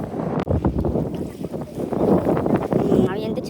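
Strong storm wind buffets the microphone on a fishing boat hauling nets in the Bay of Bengal, a rough roaring gust over sloshing water, with voices faintly mixed in.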